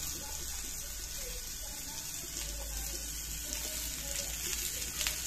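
Sliced onion frying in oil in a pan, browning to a crisp golden colour, giving a steady close hiss and sizzle with a low rumble underneath, continuous for the whole stretch with no talking.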